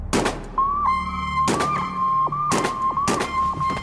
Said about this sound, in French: des coups de feu éclatent.